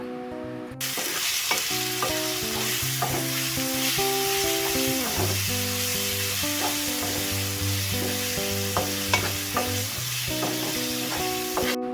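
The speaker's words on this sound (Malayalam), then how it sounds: "കൊഞ്ചെല്ലാം ചേർത്ത് കൊടുത്തതിന് ശേഷം ഒന്ന് ചെറുതായിട്ട് ഇളക്കി കൊടുക്കുക" Prawns are stirred and roasted in a hot pan, a loud, continuous close sizzle lasting throughout, with a piece of music playing underneath.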